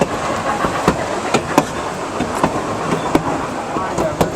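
A train rolls through a mountain canyon, heard from the back of the train as a steady broadband rumble with periodic clicks from wheels crossing rail joints, loud and continuous throughout.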